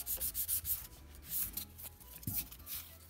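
A nail file rubbing back and forth along an acrylic gel nail extension, producing quick, rhythmic scratchy strokes close to the ear, soft and dry, with short pauses between passes.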